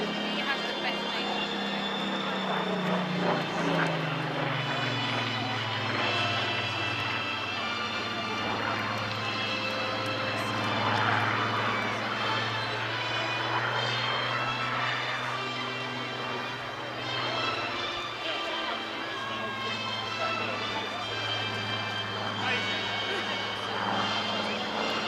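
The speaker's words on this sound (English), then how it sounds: "our second Spitfire of the day, Mark Disco Discum, at the controls of this Mark 19 photo reconnaissance Spitfire" A Supermarine Spitfire Mark 19 photo-reconnaissance aircraft from the Rolls-Royce Historic Air Fleet flies at the Clacton seaside airshow. Its piston engine drones and its pitch drops as it passes, with a voice talking over it throughout.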